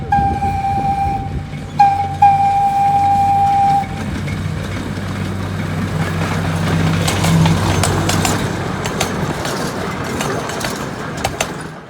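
Miniature narrow gauge zoo-style train with a steam outline locomotive and three coaches, sounding a steady whistle tone for about four seconds, then rumbling and clattering along nearby with a continuous rolling drone.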